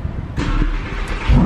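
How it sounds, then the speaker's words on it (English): A 2020 Lamborghini Huracan EVO engine cold-starts with a sudden, loud, close roar that stays steady for a second or so. "we like to hear that cold start, right?"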